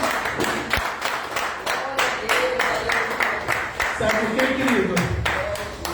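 Church congregation clapping together at an intercession gathering, a steady rhythmic patter of many hands running throughout, with voices and singing blended over it.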